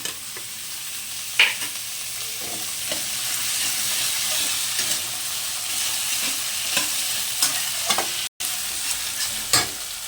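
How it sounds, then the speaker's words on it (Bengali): Cut eggplant and sweet potato pieces frying in a pan, a steady hissing sizzle with occasional stirring scrapes and clicks, close and alone. "এখন আমি বেগুন আর মিষ্টি গুঁড়ো কাটা ভেজে দিয়ে দিচ্ছি।"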